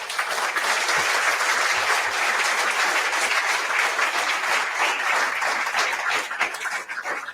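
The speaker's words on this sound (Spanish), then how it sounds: "ese aplauso para Roberto Obregón" Sustained applause from an audience at a tribute event honouring tragically disappeared writers, steady dense clapping filling the whole stretch, loud and close, fading slightly at the end with no voices over it.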